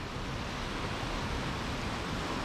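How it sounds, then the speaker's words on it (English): A river funnels through a narrow rock channel near Edzell, Scotland, producing a dense, unbroken rushing roar, close and steady throughout with no voices. "Look at the water here, the whole river funnels down through this one little section"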